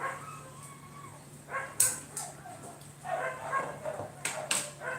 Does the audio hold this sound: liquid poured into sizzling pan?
no